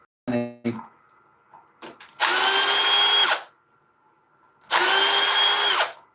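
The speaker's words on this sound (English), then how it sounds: "Right, let's get these screws out." A power drill backs screws out of a wooden woodturning piece, an oak bowl blank, in two loud sustained whirring bursts of about one to one and a half seconds each, separated by a quiet pause with light handling knocks before them.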